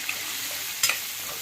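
Bottle gourd and chana dal with turmeric and salt stirred in a pan over a high flame, a steady close sizzle broken by one sharp scrape of the spoon.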